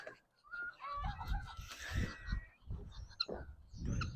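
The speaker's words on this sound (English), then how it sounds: "I'll show you guys the baby chickens, the ducks, and everything like that" Baby chickens cluck and cheep in a farm coop, with several bursts of bird calls over low thumping and rustling movement nearby, fairly quiet overall.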